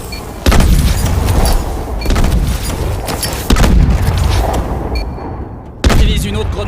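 Grenade blasts during grenade-only training in Call of Duty: Advanced Warfare, three loud booming explosions spaced a few seconds apart over dense, continuous battle noise.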